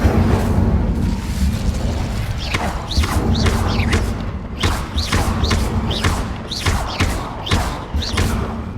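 Incendio fire spells are cast in Hogwarts Legacy, giving a run of repeated whooshing bursts that sweep upward in pitch over a loud, rumbling game soundscape. The bursts come roughly every half second to a second.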